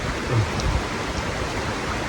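Steady broadband rush of river water flowing past a riverside spot at night, a constant even wash with a few low thumps near the start and no talk over it.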